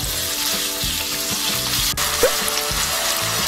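Pork fat stir-frying in a pan over medium-low heat for Korean black-bean noodles, a steady close sizzle and crackle with faint stirring scrapes, no talk.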